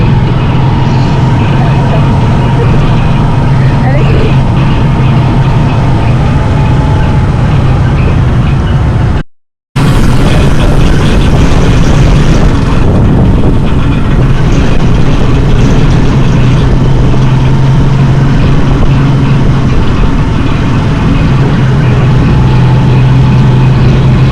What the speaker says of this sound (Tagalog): Tricycle ni tatay.